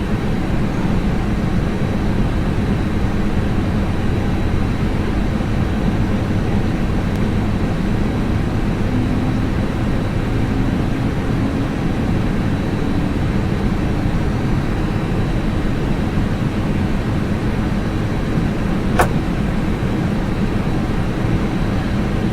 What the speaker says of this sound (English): Okay, we have 2 good engine starts.